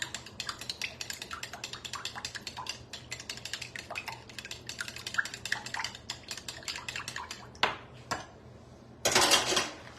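Egg, milk, oil and vanilla extract being mixed in a bowl for a cake-mix batter, with rapid clinking and scraping of a utensil against the bowl running steadily, then a brief louder clatter near the end.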